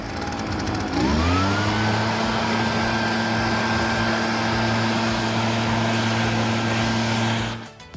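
Leaf blower engine starting with a rising rev, then running at a steady loud high-pitched drone close by for several seconds before cutting off.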